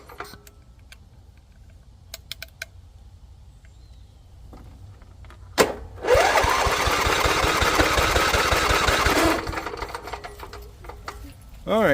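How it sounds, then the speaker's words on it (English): A Briggs and Stratton multi-cylinder engine cranks over during a compression test: a few scattered clicks and knocks, then about three seconds of loud, rapid, steady starter churning that stops abruptly. "let's turn her over and see what kind of compression she's making."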